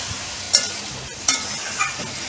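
Spices sautéing in a pan for a raw banana and potato curry, a low sizzle broken by three sharp stirring scrapes spaced about a second apart, close and with no talk.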